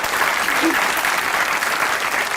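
A studio audience at a comedy talk show breaks into sustained applause, a thick, even wash of many hands clapping at full volume throughout.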